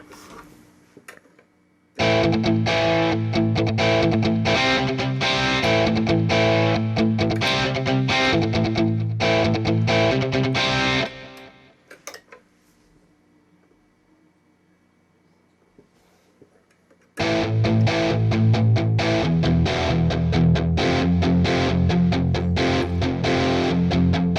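Distorted electric guitar riffs from the UJAM Iron virtual guitar plugin, played loud and chunky, cutting off into a near-silent pause for several seconds before another heavy riff kicks in.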